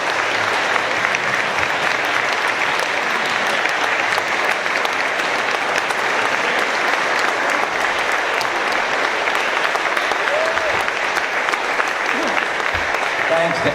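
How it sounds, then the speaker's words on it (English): At a Rotary club meeting, an audience gives sustained, even applause to top-ranked Georgetown High School students, with a full room of clapping continuing for over thirteen seconds. "Let's give a big round of applause and congratulations to the top"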